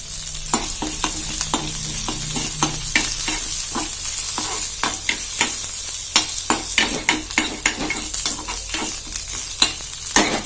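Curry leaves and green chilies sautéing in a pan, a loud steady sizzle with rapid, repeated stirring strokes scraping through it close by.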